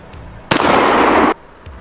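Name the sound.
12 bore double barrel shotgun firing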